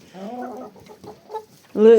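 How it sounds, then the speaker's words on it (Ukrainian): Dominant breed hens cluck close by in a few short, uneven calls, ending with a louder, sharper cluck. "Ті домінанти кури прекрасні в мене"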